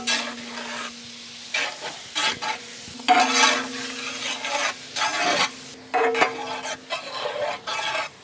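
Onions frying in hot oil for pasta, stirred in repeated scraping bursts over a continuous sizzle, close and fairly loud, with a steady low hum underneath.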